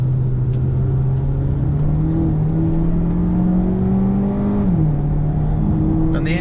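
A 2020 Audi Q3 Sportback with a dual-clutch gearbox hums steadily as it accelerates, its synthetic engine note climbing smoothly, then dropping briefly at a gear change before rising again.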